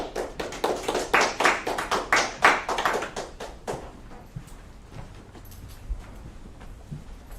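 A lecture audience at a talk on the Sun Shipbuilding and Dry Dock Company applauds to welcome a speaker, with a short run of sharp, rhythmic hand claps that thins out and stops after a few seconds, leaving quiet room noise.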